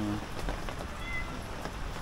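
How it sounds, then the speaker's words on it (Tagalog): Heavy rain hisses in a dense, steady wash, with scattered louder drops patting close by throughout. "lakas ng ulan"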